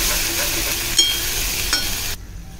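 Malvani masala frying in hot oil while horse gram curry is being cooked, a close steady sizzle with a couple of light clinks, which cuts off abruptly near the end.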